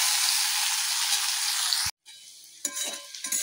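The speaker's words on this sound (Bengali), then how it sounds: "আস্তে আস্তে ভাজা হোক।" Okra, beans and ivy gourd fry in a pan with a bright, steady sizzle up close. After a brief cut, quieter frying follows with a few scraping stirs.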